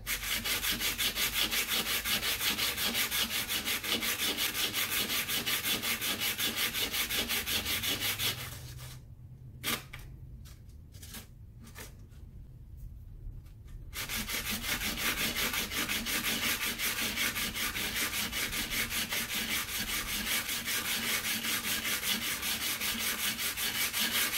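Light hand sanding on a sterling silver square stone setting, a steady continuous rubbing rasp that runs close and even, pausing briefly midway before resuming.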